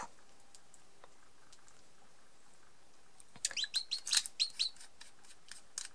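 Small birds chirping close by indoors, a quick cluster of high, sharp tweets arriving after a few quiet seconds, with faint background hiss before.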